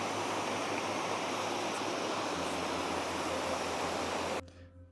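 River water rushes steadily at a picnic spot, a loud, dense, unbroken wash of flow close by that cuts off abruptly just before the end.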